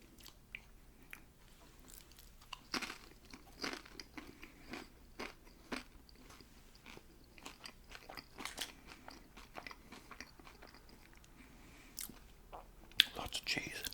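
Crunchy cheese-covered nachos are bitten and chewed close to the microphone in quiet bursts, with soft whispering between the bites.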